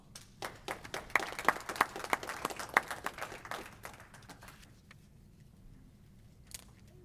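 An audience at a pitch competition claps for a speaker coming up, a brief burst of applause with distinct individual claps that quickly thins out and fades to quiet.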